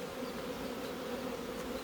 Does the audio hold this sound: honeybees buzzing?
yes